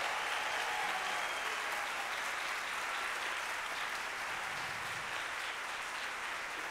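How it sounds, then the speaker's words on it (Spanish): Sustained applause from an audience after a Swan Lake ballet performance, a dense steady clapping that fills the space without pause from start to finish. "Un gran aplauso."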